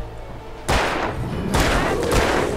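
Gunshots in the Alan Wake video game: a few heavy, booming blasts that roll into one another, loud and close, rising sharply from a quieter rumbling backdrop.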